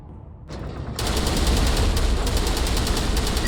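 Sustained turret gunfire from the Mass Effect video game kicks in after a quieter opening, a loud, continuous rattling burst of automatic shots that fills the rest of the stretch.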